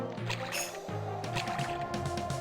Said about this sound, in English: And fall into the water again.